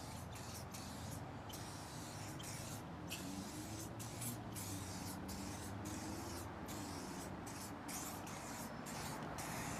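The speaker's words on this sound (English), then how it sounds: "Simply spray directly onto the surface." ShineLogic tire shine spray misted directly onto a car tire, a steady continuous hiss broken by short pauses between bursts, loud and close, with no talking.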